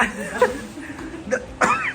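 A few short, raspy coughs in separate bursts, close by, with a bit of breathy vocal sound between them.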